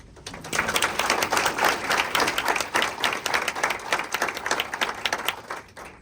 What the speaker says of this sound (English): I hear a lot of people clapping out there